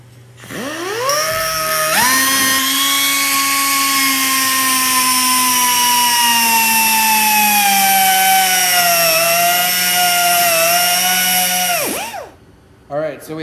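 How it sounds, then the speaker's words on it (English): An angle grinder with a cutoff wheel slices through tower plate bolts in a loud, sustained whine that holds for about ten seconds, pitch sagging slightly under load, then spins down and stops. "So what you can do is cut these out with a cutoff wheel"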